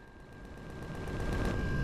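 Rapid automatic turret gunfire in a video game, a dense rattling stream of shots that builds louder over the short burst, with no talking.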